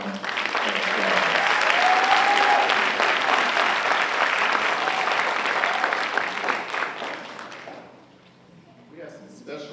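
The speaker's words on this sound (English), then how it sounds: "Let's give our graduates another round of applause." Sustained, loud audience applause for graduates at a university School of Education hooding ceremony, a dense wash of clapping for about eight seconds before fading as a voice begins to speak.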